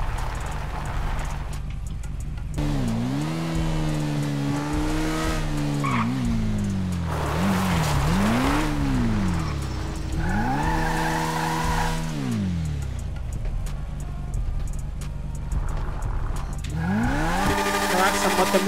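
A motorcycle slides and skids through a GTA RP street session, its engine pitch swooping up and down in repeated arcs with scraping tire noise, loud and close, while someone talks over it now and then.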